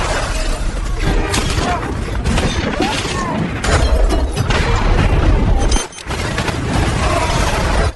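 Bomb blasts and shattering debris in a loud battle scene, with repeated bursts and crashes, a sharp cutoff to near silence, then renewed rumbling chaos.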